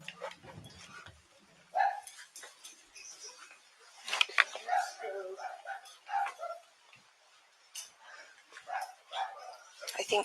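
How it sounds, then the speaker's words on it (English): A live scent tracker dog searching a house gives short whimpers, yips and sniffing bursts, fairly close and scattered through the stretch, with a person's voice heard at times. "So why are you in this house with a live scent tracker dog?"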